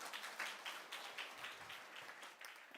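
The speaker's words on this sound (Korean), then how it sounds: "박수로 맞이하겠습니다" An audience at a Bible seminar lecture claps to welcome the lecturer: faint, steady applause from a small crowd, lasting a few seconds with no voices.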